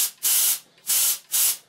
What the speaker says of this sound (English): I'll just quickly show you my canned smoke detector tester. I'll just spray it.